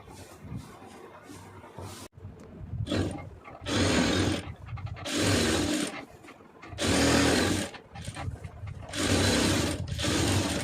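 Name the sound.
sewing machine stitching a diamond pattern on fabric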